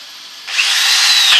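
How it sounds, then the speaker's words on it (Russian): A power drill bores a hole in galvanized steel pipe for a greenhouse frame; a quieter whine jumps to a loud, steady, high grinding whir about a third of the way in, close up and with no voices. "Сверлим отверстие заранее перед покраской."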